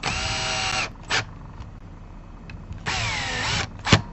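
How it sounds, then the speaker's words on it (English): Power drill driving screws into an electric guitar, two long whirring bursts of motor run each followed by a short tightening burst, close and loud with quiet pauses between. "I'm going to set my drill to 3"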